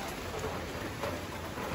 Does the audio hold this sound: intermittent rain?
yes